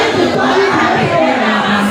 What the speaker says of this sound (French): Acclame encore Jésus, acclame.